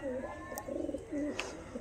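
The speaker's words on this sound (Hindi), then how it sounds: "बिल्कुल फ्रेश कबूतर हैं" Pigeons cooing close by, a few soft throaty rolling coos in quick succession with a couple of brief higher chirps mixed in.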